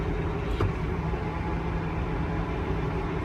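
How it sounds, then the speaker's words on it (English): Case IH 715 Quadtrac tractor engine idling as heard from inside the cab, a steady low muffled hum with no talk, even and constant throughout. "We pull the engine back to idle."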